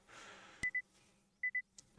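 An alarm sound effect from the Muv-Luv visual novel game sounds as two pairs of short electronic beeps, faint and evenly spaced, over a quiet background with no one talking.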